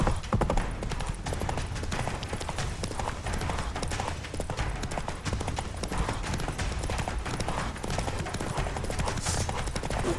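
Roach the horse gallops in The Witcher 3, a fast, steady clip-clop of hooves that stays loud and close for the whole stretch, with faint background game sound.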